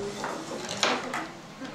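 Plates and chopsticks clatter and clink close by as yakisoba is served at a table in a seaside village home with children, amid a busy mix of knocks, with voices chattering in the background.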